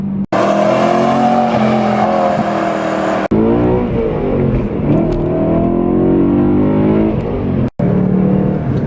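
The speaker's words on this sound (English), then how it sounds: "You cannot beat the sound of a good high revving V8." A high-revving BMW M3 V8 engine revs high and hard, its pitch climbing and falling as it accelerates, with a couple of abrupt breaks in the roar.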